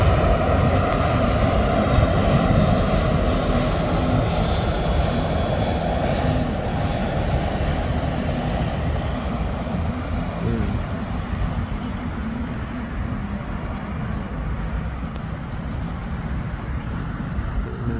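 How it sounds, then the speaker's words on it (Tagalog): A fixed-wing airplane approaching to land at Auckland International Airport, a loud continuous engine roar and rumble heard from a lookout that slowly fades a little as it passes. "parating ng aeroplano. Lalapag na yan."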